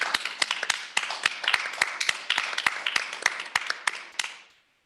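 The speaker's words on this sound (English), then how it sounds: "And I'd like to give Michelle a round of applause for all the hard work that she's done." A small audience at a town board meeting gives a short round of applause: steady, distinct hand claps at close range that fade out quickly at the end.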